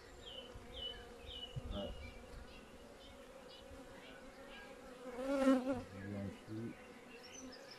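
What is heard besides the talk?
honeybees buzzing during hive inspection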